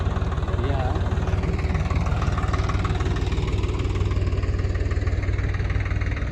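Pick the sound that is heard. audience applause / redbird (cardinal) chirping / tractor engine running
tractor engine running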